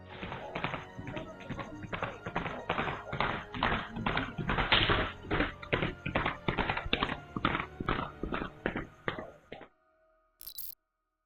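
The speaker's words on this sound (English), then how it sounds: "Suddenly, you hear horses galloping closer and closer to the house." Rapid, rhythmic hoofbeats of galloping horses pound steadily for several seconds, loud and close, then stop abruptly, leaving a brief faint sound.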